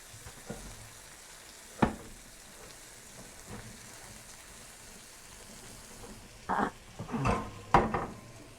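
Peppers frying in a pan for a pork tenderloin pepper sauce, a faint soft sizzle that swells into a few louder bursts of crackling and stirring near the end, with no voices.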